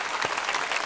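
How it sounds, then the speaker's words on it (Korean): A church congregation at a Sunday worship service applauds in thanks to God, a short burst of dense, even clapping filling the room with no voices over it. "성삼위 하나님께 감사의 박수 드립시다"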